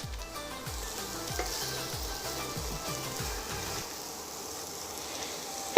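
Zucchini sizzling in a hot pan while Kung Pao chicken is cooked, a constant close hiss with repeated scraping stirs in the first half and a sharp knock at the very end.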